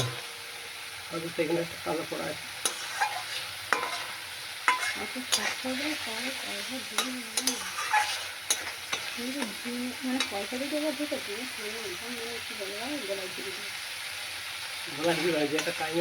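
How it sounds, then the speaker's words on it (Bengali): Spice paste for a Bengali small bata fish curry (macher jhal) is fried and stirred in a pan, with a steady sizzle and repeated scraping strokes running under a voice that talks almost throughout. "মশলা কষা চলছে।"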